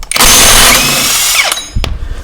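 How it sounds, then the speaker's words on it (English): A power tool with a 32 mm socket spins off the axle nut on a 2005 Subaru Legacy front wheel hub, a loud sustained whir of about 1.5 seconds followed by a short clunk and a brief second burst. "now I got a 32 millimeter socket, and we're going to try to attempt to take this axle nut off here"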